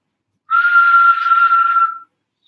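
A single long, loud blast from an officer's whistle on the morning of July 1st, during the First World War, signalling British troops to climb out of the trenches; the steady tone lasts about a second and a half and stands alone.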